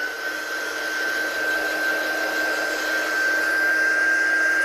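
A handheld heat tool drying watercolour paint on a craft project gives a loud, steady blowing roar with a thin whine, close and continuous throughout, without any talking.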